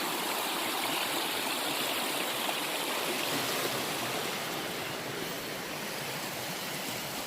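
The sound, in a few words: rushing stream on the Appalachian Trail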